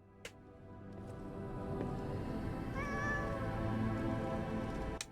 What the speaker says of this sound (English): It's a pet little kitty cat.